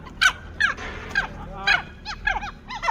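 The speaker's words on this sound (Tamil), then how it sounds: "இந்த சிம்பன்சிஸ்லாம் எவ்ளோ சவுண்ட் வைக்குது அப்படின்னு சொல்லி தான் நான் இப்போ உங்களுக்கு காட்டப் போறேன்" Chimpanzees calling loudly, a rapid series of sharp hooting and screeching cries in quick bursts, several voices overlapping at a moderate distance with outdoor background noise.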